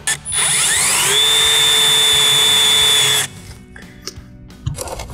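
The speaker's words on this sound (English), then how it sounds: "we're gonna drill with a 1/4 inch drill bit" A power drill with a 1/4 inch bit whines up to a high steady pitch and bores through metal continuously for about two seconds, loud and close, then stops, leaving faint clatter.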